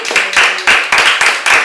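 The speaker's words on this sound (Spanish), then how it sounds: "Dale un aplauso al Señor" A church congregation claps in praise, bursts of dense, close hand clapping in quick uneven rhythm, loud and continuous over a short stretch without talk.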